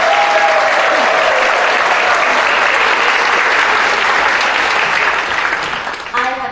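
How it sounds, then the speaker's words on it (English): An audience applauds the Old Forge Community Chorus at a concert, a loud, dense wash of clapping that holds steady before tapering off near the end. "Let's give them a round of applause"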